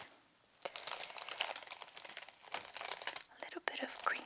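Crinkly plastic bag holding courgettes being handled up close, with soft crackles and rustles running on and off, pausing briefly, under a soft, quiet voice.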